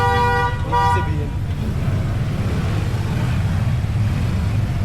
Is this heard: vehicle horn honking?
yes